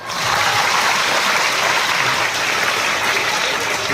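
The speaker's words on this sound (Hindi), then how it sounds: "तो एक बार ताली बजाओ।" Loud, dense clapping from a crowd of school students at an Independence Day celebration, a continuous roaring patter sustained throughout without speech.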